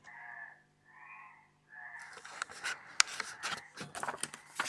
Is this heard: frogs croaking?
yes